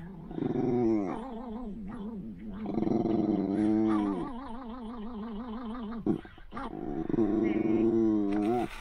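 Dogs from a YouTube video playing on a narrowboat, whining and growling in long wavering, howl-like cries that come in drawn-out bursts with short gaps between them.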